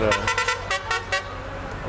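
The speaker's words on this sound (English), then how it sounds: "put a horn on my truck. It sounds like that." A string of short truck horn toots repeats in a quick, uneven rhythm, fairly close and loud against faint background noise.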